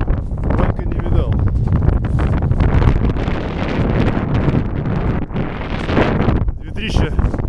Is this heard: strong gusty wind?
yes